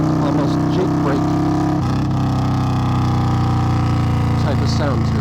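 A 2021 Indian Scout motorcycle with a Hacker Mayhem exhaust rumbles loudly and steadily off throttle, a deep continuous engine drone with crackling, braking-like pulses, and a voice talking over it throughout.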